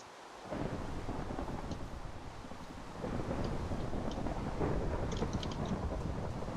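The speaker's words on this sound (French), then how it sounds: "je pense que c'est l'orage qui est tombé genre super à côté" Thunder rumbles from a storm in the video game Minecraft, a close strike making a loud, broad roar that swells and holds for several seconds with rain-like hiss and no talking.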